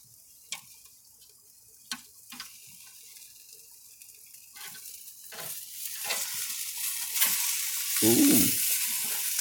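Smoked meat sizzles on a grill as it is shifted around, a steady crackling frying hiss that swells louder toward the end, with a few sharp clicks of tongs early on.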